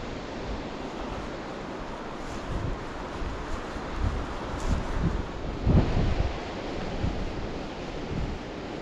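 Wind blows across a hillside valley near remote cottages as weather moves in, a steady broad whoosh with gusts and microphone buffeting throughout, fairly loud, with no voices.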